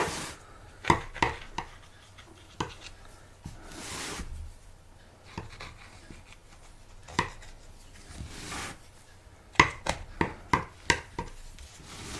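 A knife trimming excess pastry from the edge of a homemade chicken pie gives soft, irregular taps and knocks against the dish or board. The sounds come close and fairly quiet in scattered clusters, with pauses between them.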